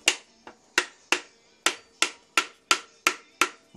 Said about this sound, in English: I'll get my trusty 3-pound hammer, and we'll just give it a little tap.